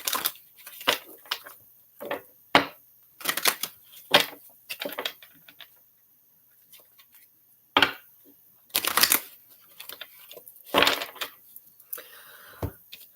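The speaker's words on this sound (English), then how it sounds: "Just let me shuffle these good because we want nice, fresh energy." Tarot cards are shuffled in short, crisp riffling bursts separated by quiet pauses, close and fairly soft, with occasional taps and knocks.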